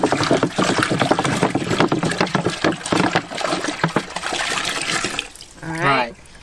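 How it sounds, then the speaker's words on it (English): Water drains from a sink in a van conversion with a rushing, gurgling flow lasting several seconds, close and fairly loud, ending in a brief burst of gurgles as it empties. "how quickly this water drains"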